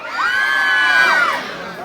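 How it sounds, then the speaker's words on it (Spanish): A crowd of girls at a 2024 carnival lets out one loud, sustained shout that swells, holds for about a second, then fades. "un grito bien fuerte"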